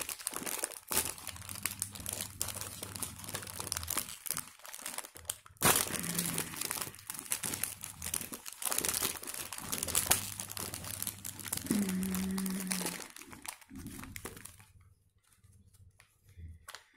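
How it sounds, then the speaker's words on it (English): A plastic wrapper on a Winkies centre-filled chocolate cake with vanilla cream is torn and crinkled open, giving close, continuous crackling and rustling for about fifteen seconds before it goes quiet. "Now I tear this packet."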